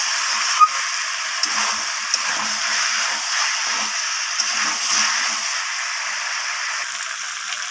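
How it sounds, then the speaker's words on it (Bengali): Chicken pieces sautéing slowly in a pan for a Bengali chicken curry, giving a continuous even hiss with faint, scattered taps of a spoon beneath it. "বেশ খানিক্ষণ সময় ধরে বন্ধুরা চিকেনটা এখানে কষাতে হবে"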